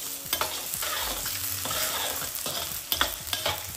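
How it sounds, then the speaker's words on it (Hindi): Peanuts tumbling into finely cut potatoes frying for poha, a close, busy sizzle broken by repeated scraping stirs and light rattling knocks against the pan, without speech. "आलू हल्के हल्के फ्राई हो गए हैं तो पीनट्स डाल देते हैं।"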